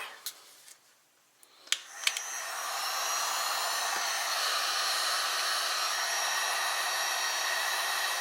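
A heat gun blows hot air onto vinyl wrap on a BRP Oxygen helmet, starting with a few clicks and handling taps, then a steady loud whooshing hiss that holds through to the end.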